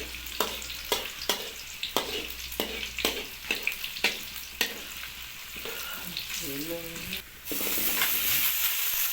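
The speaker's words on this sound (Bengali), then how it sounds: "তো আমরা এখন পেঁয়াজটা দিয়ে নেবো। হালকা পেঁয়াজটাকে নেড়ে নিতে হবে।" Onion added to hot oil and stirred in a pan, a steady sizzle punctuated by regular sharp taps of a spatula, with faint speech in the background.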